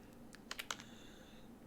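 Quiet keys are tapped on a computer keyboard while a game stream is set up, with a handful of quick clicks bunched near the middle over a low steady hum.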